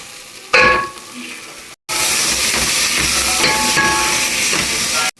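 Tomato masala with chicken masala powder and home-ground chili powder sizzles and fries in a pan while being stirred, a loud continuous hiss broken by a brief pause and scraping movements.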